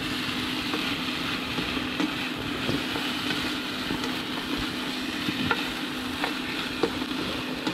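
A stir fry hisses and sizzles on a Lidl Silver Crest double induction hob set up in a camping awning, steady frying under a low hum with occasional light clinks, no voices.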